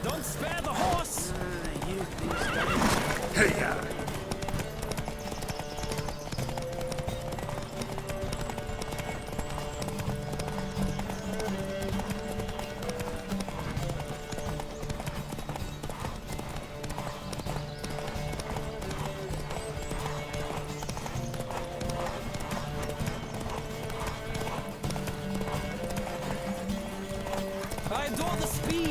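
Hooves clop rapidly and steadily as horses gallop in a race in the video game The Witcher 3: Wild Hunt, with occasional whinnies over a music-like background, and a voice shouts briefly near the start.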